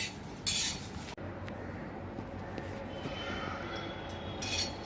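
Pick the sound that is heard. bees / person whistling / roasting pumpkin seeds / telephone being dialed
roasting pumpkin seeds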